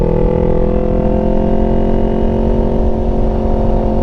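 A motorcycle fitted with TST V2 stacks exhaust runs loud and close, with a steady, throaty engine drone and a strong low rumble that holds through the whole stretch.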